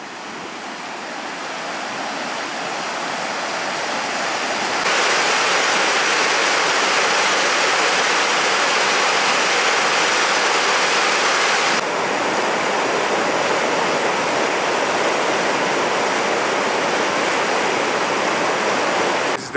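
Water pouring over a weir on the River Soar near Sileby Mill, a loud, steady rushing roar heard close by that swells after a few seconds and holds, with no voices.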